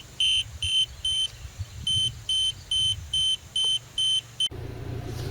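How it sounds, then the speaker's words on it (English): A cheap eBay TPMS tire pressure sensor alarm for an RV trailer beeps in a steady series of about ten evenly spaced high electronic tones over a low idling vehicle rumble, then stops abruptly. "the alarm started going off as soon as I took the sensor off"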